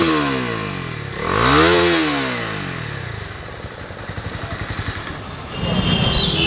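Honda CB300R BS6 motorcycle exhaust revving up and falling back, then settling into a throbbing idle before another rise, loud and close with no talk.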